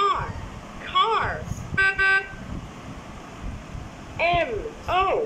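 A VTech bilingual alphabet and clock toy plays a car horn sound effect: one brief, bright electronic honk in the middle, surrounded by a chirpy synthetic voice speaking before and after it.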